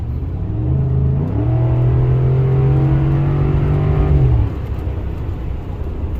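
A 2013 Ford F150 with a 5.0L engine, fault codes for oxygen sensors stuck rich, revs up in two steps, holds a steady high drone for a few seconds, then drops back to a rumbling idle, close by with no talk.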